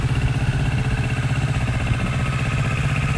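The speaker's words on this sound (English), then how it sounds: "So it's a 67 horsepower parallel twin engine" A 2018 Kawasaki Ninja 650 KRT Edition's 650cc, 67 horsepower parallel-twin engine idles close by. It gives a steady, even low thrum with a fine pulsing beat that runs unchanged the whole time, with no voices over it.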